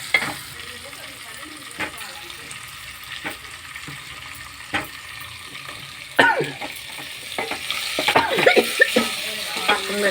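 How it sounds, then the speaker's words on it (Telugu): Tomato pieces frying in a hot pan while a spoon stirs them, with steady sizzling and repeated scraping knocks against the pan that grow busier toward the end. "తర్వాత టమాటాలు కట్ చేసుకుని వేసుకోవచ్చు."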